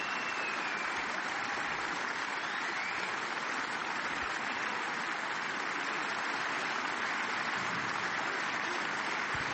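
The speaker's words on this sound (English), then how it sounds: "This applause is going to go on a while, and as it should." Sustained applause from a large arena crowd after the final frame of the 2014 German Masters snooker final, a dense, steady wash of clapping that stays loud and unbroken throughout.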